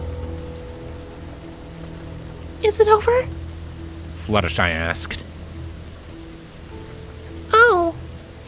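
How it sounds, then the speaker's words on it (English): Steady rain pattering on a surface, a soft continuous hiss under a voice speaking in short bursts. "The rain pitter-pattered off of Applejack's hat."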